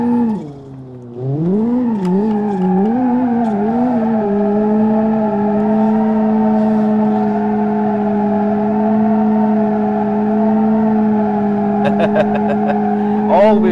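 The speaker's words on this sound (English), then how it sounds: "All-wheel drive donuts are always nice." A Ford pickup in the BeamNG.drive driving game doing all-wheel drive donuts, its engine holding a steady loud drone with pitch wobbles as it revs, continuous and close throughout.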